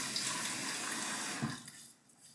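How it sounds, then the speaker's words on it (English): Warm tap water runs steadily into a sink at close range, then cuts off and leaves a few faint drips and splashes. "Let's get some warm water on the face"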